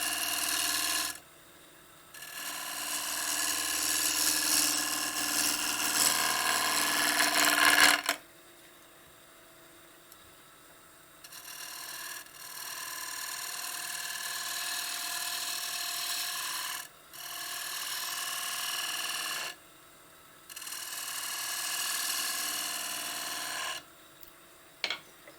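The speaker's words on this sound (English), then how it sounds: "And you still hear the gouge bouncing a bit" A wood gouge carves a jewelry box base in a series of rough, rasping cuts lasting a few seconds each, with the tool audibly chattering against the wood and quiet gaps between passes.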